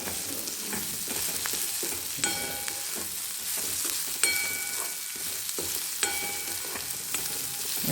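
Onions frying steadily in a pan for a samosa filling, a continuous close sizzle with occasional scraping stirs and a few metallic ladle clinks against the pan; no voices.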